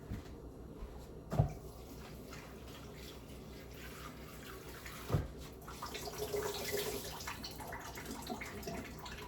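Running water rinses chopped ingredients for a homemade Latin meatloaf, a faint steady splash with two sharp knocks and a louder rush of water near the end.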